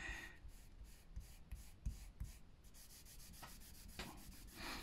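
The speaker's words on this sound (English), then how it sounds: "you want to rub it in quite hard to get it right into your, you know, your grain" Finish being rubbed hard into the grain of a wooden keepsake box with a cloth, a close, steady scrubbing friction in repeated strokes, heard alone.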